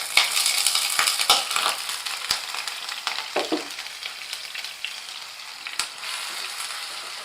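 Paste of two medium large onions sizzling and crackling steadily in a pan for an egg kurma, with scattered sharp clicks and scraping stirs over the continuous hiss.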